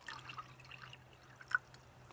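Tap water runs to fill a container for coffee, a faint, soft trickle and drip under a low steady hum, alone and without voices.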